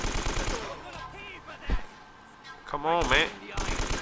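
Bursts of rapid automatic gunfire from the video game Uncharted: Drake's Fortune, heard in short volleys at the start, middle and end, mixed with game sound effects, and someone speaks briefly in the middle.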